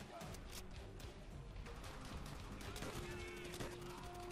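A machine gun nest firing in Call of Duty: World at War, with rapid gunfire bursts heard faintly under continuous game noise and low-level sound.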